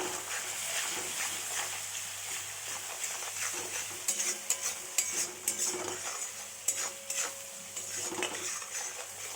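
Spice masala with turmeric and salt stirred and sautéed in a pan, a soft sizzle under intermittent clinks and scrapes of a spoon against the pan, growing busier in the second half.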